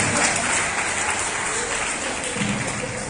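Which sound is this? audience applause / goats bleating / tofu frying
audience applause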